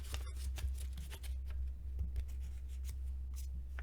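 Paper being folded and creased by hand, with soft scraping and rubbing strokes over a steady low hum, close and fairly quiet.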